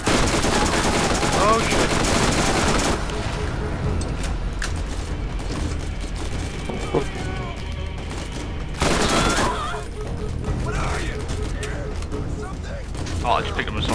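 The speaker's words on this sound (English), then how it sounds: "Oh, I just picked up an assault rifle." Sustained, loud assault rifle gunfire in the video game Borderlands, coming in two long heavy bursts separated by quieter stretches of scattered shots and game noise, with a player speaking over it.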